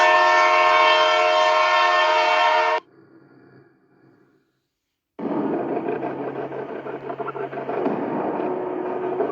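Train horn blares loud and sustained, cuts out into near silence, then an approaching train rumbles past with clattering wheels and a steady roar that stays close and loud.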